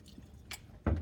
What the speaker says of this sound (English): you would take the back of your spoon, you would hold it like this and drain the water.